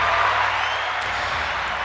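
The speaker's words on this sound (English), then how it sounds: "That deserves an applause." A dense, steady patter of many hands clapping together sounds throughout, moderately loud and unbroken for the whole moment.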